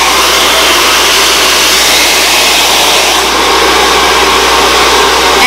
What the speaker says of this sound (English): then you get the blow dryer.